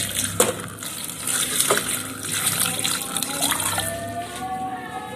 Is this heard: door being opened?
no